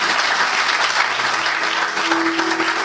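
An audience in a sermon setting applauds to acclaim a king, a dense, steady wash of many hands clapping, loud and close, holding evenly for the whole stretch with no voices standing out.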